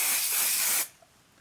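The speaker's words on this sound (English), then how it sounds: "Following the directions on your basting spray, spray 1/2 of your batting." A steady spray of basting adhesive onto quilt batting hisses loudly for under a second, then cuts off abruptly, leaving near silence.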